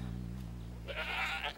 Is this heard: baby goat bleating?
yes